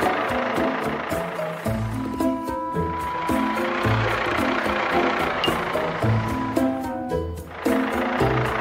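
A cartoon super truck's engine rumbling as it arrives, a deep low throb with pulsing revs and shifting tones, sustained and fairly close, alongside background music.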